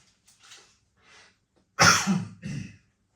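A harsh cough close by, then a shorter second hack, after a few faint breaths in near silence.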